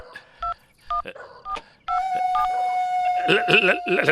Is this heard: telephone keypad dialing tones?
yes